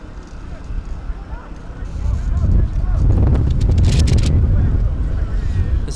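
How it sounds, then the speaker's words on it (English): Heavy, low wind rumble buffets the microphone at an outdoor football match, swelling louder after the first couple of seconds and staying strong and gusty throughout. "It's very windy."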